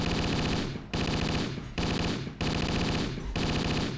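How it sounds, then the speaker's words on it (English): Rapid, continuous automatic gunfire from a weapon in a modded GORN VR game, loud and dense, with bursts repeating about every second. "Let's see how long I can last with this gun."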